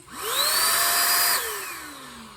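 A cordless battery-powered vacuum cleaner spins up with a rising whine, runs loud and steady up close, then winds down as the motor pitch slowly falls away; no talking.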